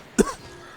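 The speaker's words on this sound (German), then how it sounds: "der Husten gab es gerade ein bisschen überraschend" A single sharp, close cough bursts out once, loud and brief against a quiet room, then fades into low background hiss.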